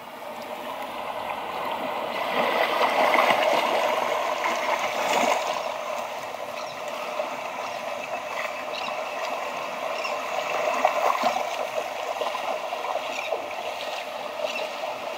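Recorded ocean waves from a nature sounds meditation track play through an Amazon Echo smart speaker, a steady washing surf with swelling rushes, moderately loud and continuous in a room, with no talk over it.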